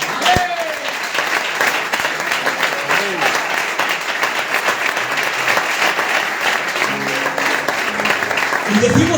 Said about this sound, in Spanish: y a ese Dios le damos un fuerte aplauso.